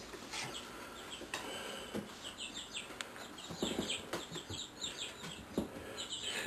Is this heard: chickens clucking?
yes